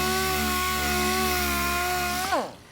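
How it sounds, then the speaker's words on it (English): A power sander whines steadily with a strong tonal hum close by as it sands an SMC composite fender on a Saturn Sky, then spins down and stops near the end. "a little bit more sanding right there."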